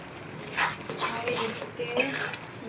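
A spoon scrapes and clinks steadily in a pan while farali sheero cooks in ghee for a Shivratri fast. The metallic stirring repeats at close range under a speaking voice.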